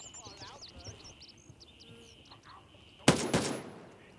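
Gunfire in the video game Gray Zone Warfare: a short, loud burst of two or three rapid shots near the end, following quieter rustling and faint ambient chirps, with no talk.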